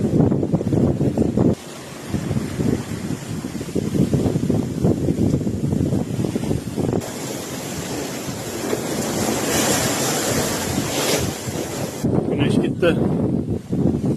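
Ocean waves surge and wash continuously around a sailboat on an Atlantic crossing, with steady wind noise buffeting the microphone and a voice speaking over the sea.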